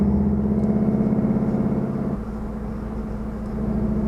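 Volkswagen Golf 7 R with a 2.0-litre four-cylinder engine rated at 300 horsepower, set for a launch control test: a steady, loud engine drone that holds, then shifts to a lower, rougher idle-like note partway through, with no talk.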